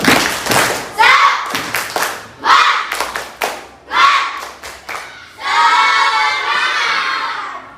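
Students in a mathematics classroom break into a quick rhythmic spirit clap, a dense burst of many hands that follows several short spoken phrases and carries on steadily to the end.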